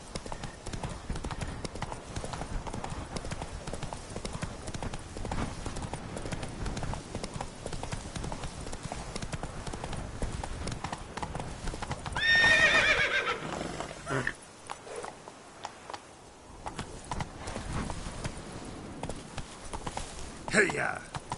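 Roach, the horse in a PS4 game, gallops with steady rhythmic hoofbeats and lets out a loud whinny partway through, while someone speaks over the action at times.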